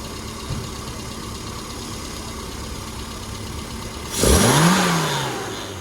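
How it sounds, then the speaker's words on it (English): A car engine idling steadily during on-the-road carburettor tuning, then throttled up in a sharp rev that rises and falls back over about two seconds, no talking. "now when we throttle it"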